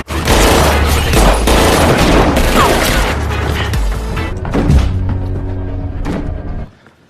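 A gunfight from a revenge action film about a former special forces sniper: dense, loud volleys of gunfire with booming impacts and mechanical clatter, cutting off abruptly at the end.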